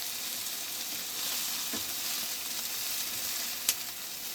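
Onions fry in oil at the start of a mince stew, giving a steady, even sizzle throughout with one brief clink of a utensil near the end.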